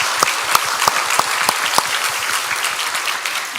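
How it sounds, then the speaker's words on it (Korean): Applause from a church congregation thanking its leaders and shepherds, a dense wash of claps with a few sharp louder claps in a slow rhythm, steady and fairly close throughout with no talk. "뜨거운 박수로 감사합니다 표시하면 어떨까요?"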